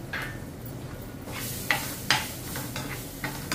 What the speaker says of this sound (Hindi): ये होने के बाद में हम डाल देंगे डायरेक्ट इसमें अपनी कटी हुई मिर्ची